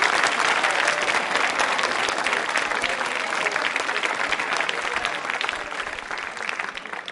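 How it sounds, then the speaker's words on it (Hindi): A school quiz-show audience applauds loudly and continuously, a thick crowd roar of clapping that holds steady for several seconds and thins a little toward the end. "तालियां जोरों से बजाइए अपने लिए"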